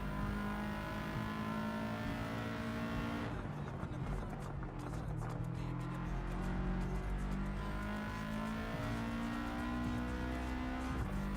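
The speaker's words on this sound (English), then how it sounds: "Listen to that engine purr." A race car engine in Gran Turismo 7 drones steadily at high revs, a dense continuous buzzing whine that shifts pitch slightly as it accelerates, loud throughout with no gaps.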